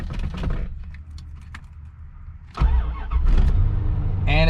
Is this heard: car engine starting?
yes